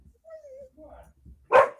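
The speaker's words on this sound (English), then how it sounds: "And I apologize for the barking of my dog." A pet dog gives a single short, sharp bark in a home, following faint whimpering and rustling noises at low volume.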